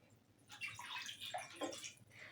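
Clean spring water is poured from a clay pot at an Andrew's Eve folk celebration in a school, a faint, continuous splashing and trickling heard alone with no voices.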